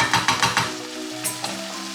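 Tomatoes dropped onto onions frying in a pan set off a loud, close sizzle with a few quick stirring scrapes early on, then settle into a steady hiss, no voices.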